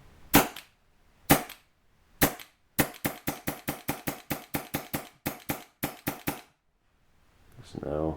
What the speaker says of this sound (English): So let's go ahead and test our trigger pull now.